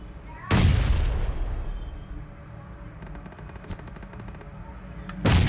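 Grenade blast in a mobile shooter game: one loud booming burst near the start that slowly decays, then a run of rapid gunfire and a second heavy blast at the end.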